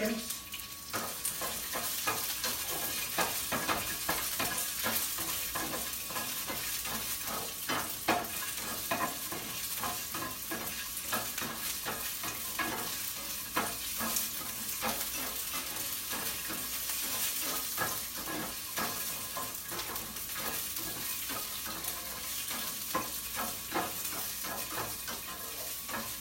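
Green beans stir-fried in a pan with ginger and chili pepper, a continuous close sizzle and hiss broken by repeated scraping and tossing strokes, steady and alone without speech.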